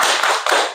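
A class of Indonesian secondary school students does a short clapping chant, a quick burst of loud, sharp claps lasting under a second.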